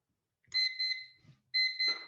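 A timer alarm sounds in two bursts of quick, shrill electronic beeps separated by a short pause, loud and alone with no voices.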